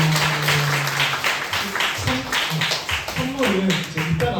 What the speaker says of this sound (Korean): 우리 목자님들 향해 감사의 박수 한번 올려드리도록 하겠습니다.